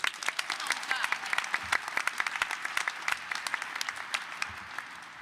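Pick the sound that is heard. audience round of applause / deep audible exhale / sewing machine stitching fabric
audience round of applause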